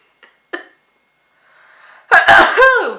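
A person tries to sneeze with eyes open: two short, sharp nasal bursts, a quiet breathy build-up, then a loud, forceful burst that trails into a voiced, strained exhale.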